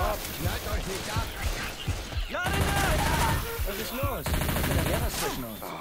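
Rapid bursts of Left 4 Dead 2 gunfire crackle and rattle in quick volleys while excited voices shout in German over the shooting.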